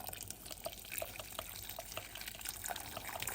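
Hot water pours over dried stockfish set to soak, a steady close liquid splash with scattered drip-like plinks throughout, fairly quiet and with no talking.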